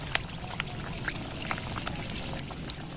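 Pieces of semolina goja dough frying in gently warm oil, a steady low bubbling with soft crackles and scattered sharp pops spread across the whole stretch, close by and fairly quiet.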